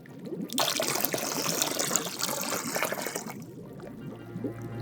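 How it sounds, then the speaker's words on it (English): A short burst of liquid pouring and splashing into a pot of paper mache mixture, lasting a few seconds before tapering off, close and fairly loud. "I'll only put a splash."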